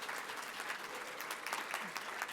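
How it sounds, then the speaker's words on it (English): An audience applauds continuously, a dense patter of many hands clapping at moderate volume. "please join me in giving all these women a round of applause"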